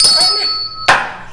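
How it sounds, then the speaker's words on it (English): A bell is rung on a live café talk show, giving a thin sustained ringing tone and then one sharp, bright strike that rings out and fades over the last half second. "Can you ring your bell a little better, please?"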